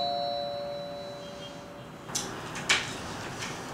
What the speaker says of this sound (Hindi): घंटी बजाना जरूरी तुझे